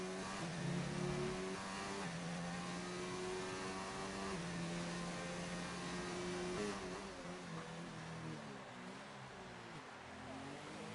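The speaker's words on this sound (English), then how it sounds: "Renault is just like more raspy than anything" A Renault race car engine in a racing video game sounds raspy, holding a steady, loud tone for most of the stretch, then shifting pitch as the revs change near the end.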